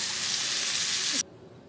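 Onion and tomato fry in oil, a steady hissing sizzle that cuts off abruptly after about a second, leaving only faint room noise.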